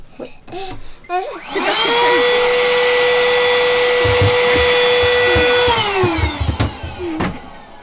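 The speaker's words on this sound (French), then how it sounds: "Anna, elle aime pas du tout l'aspirateur." A vacuum cleaner aboard a boat whines up, runs at a loud steady drone for several seconds, then spins down, with a voice and bumps heard faintly beneath it.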